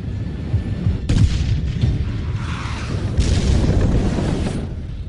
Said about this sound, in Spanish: El segundo disparo alcanza la torreta del tanque enemigo.